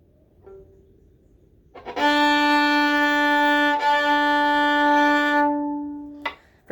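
A bowed string instrument played without a mute sounds a bright, resonant sustained note with rich overtones for about four seconds, with a short bow change in the middle, after a quiet lead-in.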